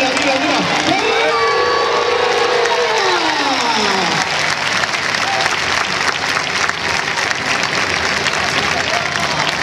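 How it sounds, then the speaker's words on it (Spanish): An audience at a bull fiesta in Benidorm, Spain, claps in dense, continuous applause, loud and sustained throughout, with crowd voices and a rising and falling vocal tone early on. "Palmas, palmas, palmas, niños"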